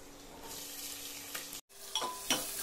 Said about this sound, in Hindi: जब लहसुन अदरक भुना जाए तो इसमें कटे हुए प्याज डाल देंगे।